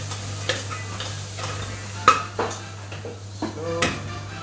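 Pork stir-fries in a pan at a street restaurant in Kingston, Jamaica, sizzling steadily while a utensil scrapes and clanks against the metal in scattered, sharp knocks.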